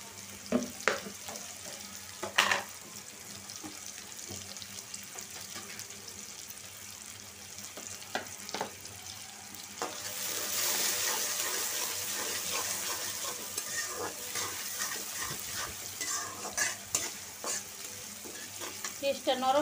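Onions frying in a pan for a chicken dish with chickpea lentils, a steady close sizzle broken by repeated scrapes and knocks of stirring, with water running briefly in the background.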